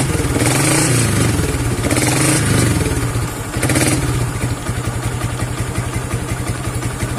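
A stock Yamaha New Vixion Lightning motorcycle fitted with a Juken 5 Dual Band ECU revs close by, with throttle blips and a chattering idle between them, loud and unaccompanied by talk.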